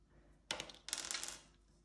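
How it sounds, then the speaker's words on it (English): Dice clattering onto a surface for a snakes and ladders savings challenge, two quick rattling bursts a moment apart, close and fairly loud with nobody talking. "we'll just roll the dice, see where we go."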